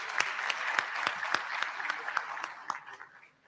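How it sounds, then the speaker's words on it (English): An audience at a medical and dental practitioners' induction ceremony gives a brief round of applause, with sharp, fairly sparse claps at a steady pace that thin out and fade toward the end. "He deserves a round of applause."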